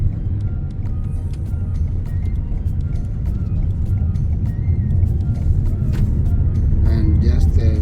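A car drives along the Pacific Coast Highway near Malibu, a steady low road rumble and engine drone running throughout at an even level, with faint higher tones near the end.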